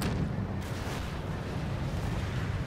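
Heavy gunfire and artillery-like booms from the Company of Heroes strategy game rumble in a dense, continuous low barrage.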